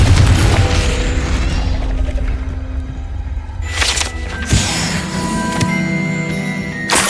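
A Confringo explosion spell cast in Hogwarts Legacy, a loud booming blast with rumbling crash and debris, followed by a second burst and tinkling, ringing after-tones.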